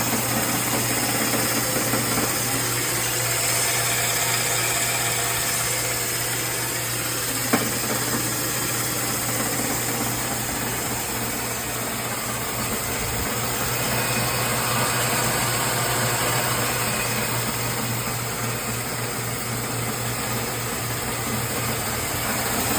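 A refurbished BIRO 3334 meat band saw with an 18 by 25 inch roller carriage runs steadily, giving a continuous motor hum with a constant high blade whine and no talking.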